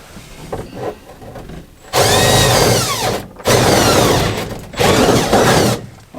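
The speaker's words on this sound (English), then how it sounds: "I actually ended up doing it with a jigsaw." A jigsaw cuts through a double-skin camper wall in three loud, close bursts of buzzing, rattling blade noise separated by short pauses, with lighter tapping and handling sounds before the first cut.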